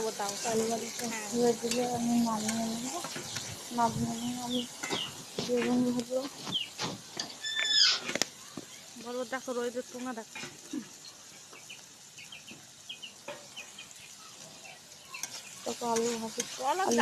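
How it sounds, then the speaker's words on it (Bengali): Potatoes frying in a pan at home, a steady background sizzle running beneath frequent nearby voices and animal-like calls that largely cover it. "ভালো করে ভেজে নিচ্ছি"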